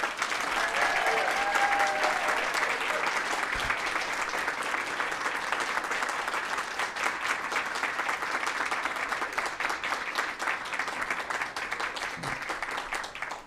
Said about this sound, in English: we want to give them a round of applause as well